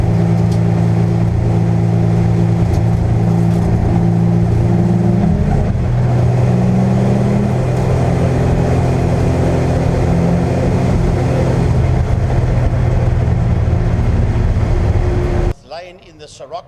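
Volkswagen Scirocco race car engine during a race, a loud sustained drone with pitch shifts as it changes gears, cutting off abruptly near the end.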